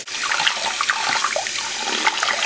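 Running tap water splashes steadily into a sink while a beauty blender sponge is rinsed, loud and close, with small bubbly squelches from the sponge under the stream.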